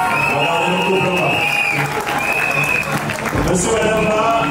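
Guests applaud at a civil wedding ceremony in Gabon. Dense, continuous clapping fills the whole clip, with voices talking over it.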